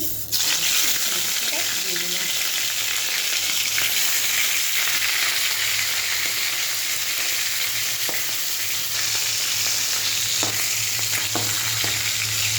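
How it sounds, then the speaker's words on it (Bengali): Fish head frying in hot oil, a steady loud sizzle and crackle lasting throughout with occasional stirring scrapes. "মাছের মাথা আমার ভাজা হয়ে গেছে।"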